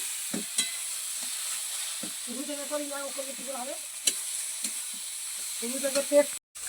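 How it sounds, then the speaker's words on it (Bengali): Spices sizzle and fry steadily in a pan for a home-cooked meat curry with capsicum, with occasional clinks of a stirring spoon and brief voices talking over the cooking. "ওখানে মশলা কষানো হচ্ছে"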